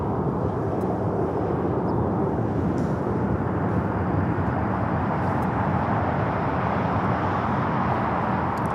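An EVA Air Boeing 777-300ER taking off from runway 25 right at LAX gives a continuous, steady jet roar heard from a distance, holding at an even level throughout.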